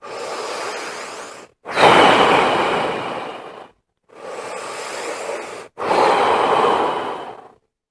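Two slow, deep breaths shown as a breathing technique, each a long noisy exhale followed by a full inhale, loud and close with brief silent gaps between them.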